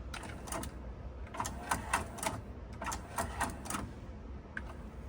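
A Nakamichi RX-505 cassette deck works its tape transport, with faint mechanical whirring and a series of brief clicks and clunks as rewind and fast-forward engage, close and quiet with no talking.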